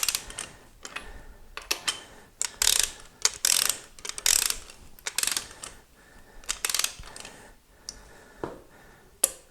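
A ratchet wrench snugs down a bolt during an Olds 455 engine build, sending out repeated bursts of rapid, crisp clicking separated by short pauses, close and fairly loud.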